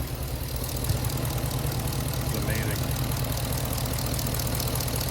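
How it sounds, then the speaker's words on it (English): A Hemi V8 engine swapped into a Jeep JK idles with a steady, low, rumbling exhaust note, close by; a voice speaks briefly over it. "The first actual drive where I can hear the motor and the exhaust."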